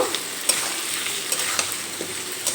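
Fish roe being stirred with ground spice paste in a pan over medium gas flame, a steady frying sizzle with occasional sharp scrapes and taps of the spoon against the pan.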